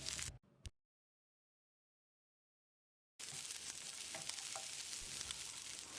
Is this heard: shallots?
yes